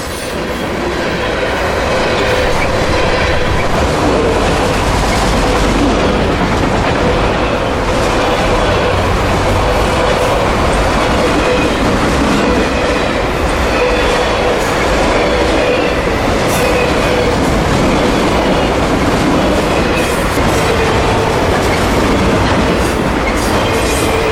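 A freight train rumbles past close by, a steady roar with rhythmic clacking wheels that continues without a break.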